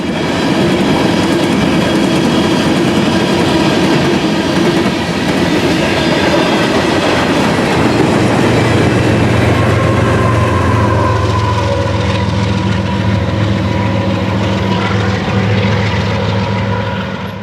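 A Kansas City Southern freight train hauling brand-new short three-bay hopper cars rolls past near Heavener, a loud continuous rumble and clatter of wheels and cars that slowly shifts in tone as the train goes by.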